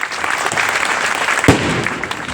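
Loud, dense applause from an audience at a political meeting, continuous clapping throughout with a sharp accent near the middle.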